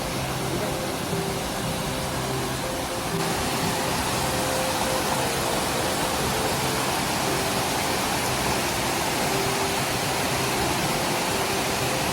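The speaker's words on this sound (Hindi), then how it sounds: "तो अभी हम जा रहे हैं इस झरने को पार करने।" A mountain waterfall on the Shrikhand Mahadev trek in the Himalayas, heard up close as a steady, loud, unbroken roar of rushing water that fills the whole stretch without a pause and with no talking over it.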